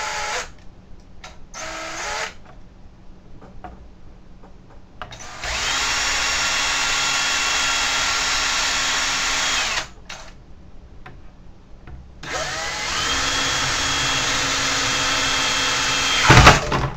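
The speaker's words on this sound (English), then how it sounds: "We can actually drill through" A power drill boring holes through the back of a Samsung S24D590PL monitor for a VESA mount, two long sustained whining runs of about four seconds each, close and loud, separated by quieter handling noise.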